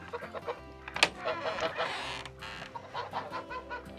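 Chickens clucking inside a coop that houses eight to twelve birds, with soft overlapping clucks and calls close by and one sharper squawk near the start, over low background hum.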